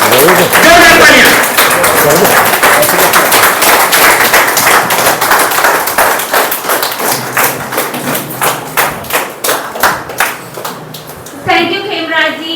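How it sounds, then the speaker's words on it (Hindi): An audience at a seminar claps loudly at first, in a dense wash. The applause thins into scattered, separate claps before a voice starts speaking at the end. "जोरदार तालियां।"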